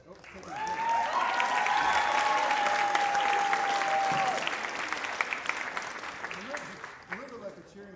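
Audience applause with some cheering at a spring ring-and-sing community event, a broad steady wash of clapping that swells and then thins out, with a sustained tone and some voices mixed in near the end.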